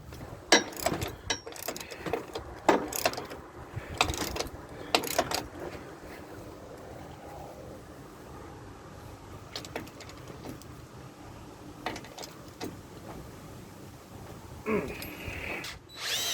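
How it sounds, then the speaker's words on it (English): Hand tools work a nut and bolt on the rear air suspension of a 1998 Dodge Dakota truck, giving scattered metallic clicks and ratcheting taps at close range over a steady background hum, with no talking. "going ahead and tighten that nut down, that bolt down"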